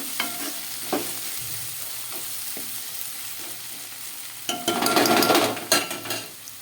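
Onion pieces fry in a pan as chilli powder and salt go in, with a soft sizzle and scattered spoon taps at first, then a louder burst of crackling frying and stirring that fades near the end.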